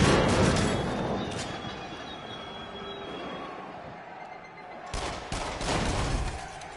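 Rapid gunfire at cameras in the VR shooting game Until Dawn: Rush of Blood, a dense rattling stream of shots with mechanical, rail-like clatter that thins mid-way and returns in loud bursts near the end.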